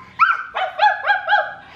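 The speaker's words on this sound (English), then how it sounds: "what does the doggy say?" A dog gives a quick series of four or five loud, close, yelping barks with a whiny, high-pitched edge, clear and alone without talk over them.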